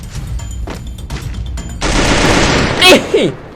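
Rapid bursts of automatic gunfire in the battle royale game Free Fire, several loud volleys in quick succession with sharp shot transients, including a louder burst near the end.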